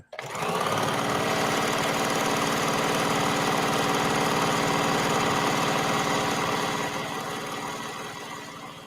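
A sewing machine runs continuously at speed, a close, buzzing mechanical whir that slows slightly at the end.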